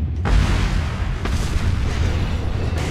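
A gunshot in Resident Evil 4 lands as a loud, deep boom right at the start, its heavy low rumble filling the following seconds before fading.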